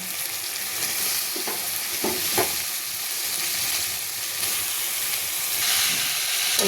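Boiled cauliflower and cabbage are stir-fried in a pan, with a constant hissing sizzle and a few scraping stirs near the start.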